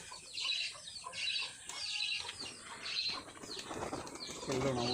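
Bali pigeons flapping their wings in bursts through the clip, close by, with some clucking fowl sounds mixed in.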